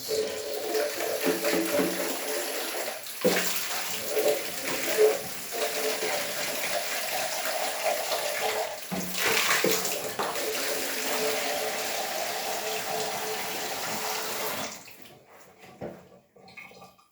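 Water runs steadily from a tap into a tub where fabric is being soaked for dyeing, a continuous close gushing with a few brief bumps, then it shuts off and goes quiet near the end.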